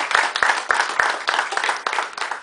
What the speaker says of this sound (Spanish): a quien también le damos un aplauso y le agradecemos su presencia